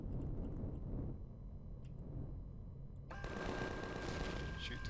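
Gunfire in the space survival game Empyrion, aimed at a core block: a dense, continuous rattle of rapid shots that grows louder and brighter about two-thirds of the way through, with talk faintly underneath.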